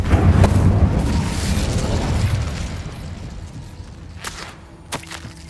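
Incendio fire spell cast in Hogwarts Legacy, a loud whooshing burst of flame that roars and fades over several seconds, followed by a couple of sharp pops.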